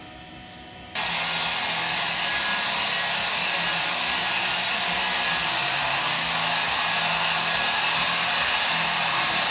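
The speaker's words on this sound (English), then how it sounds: "Oh, it's a heat gun." A loud, steady blowing roar like a hot-air gun switches on abruptly after a second of quiet and runs on continuously, close and unbroken.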